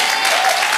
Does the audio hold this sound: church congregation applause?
yes